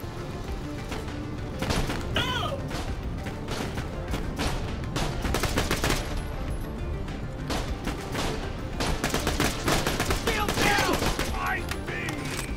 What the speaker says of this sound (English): we're gonna go handgun. An automatic handgun, sweet.